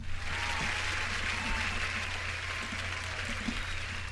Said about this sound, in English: Let me get these hand claps going for you, man.